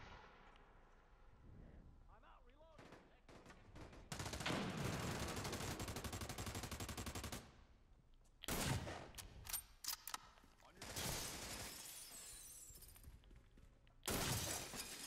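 Loud, bursty gunfire and crackling impacts in a video game shooter, coming in several dense volleys over about fifteen seconds with gaps between.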